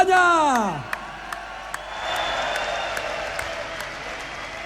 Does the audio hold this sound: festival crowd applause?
yes